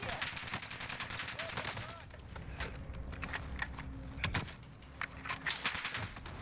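Rapid bursts of gunfire in the video game Call of Duty: Warzone crackle in sharp repeated volleys alongside clicking keys, with people talking in Portuguese now and then.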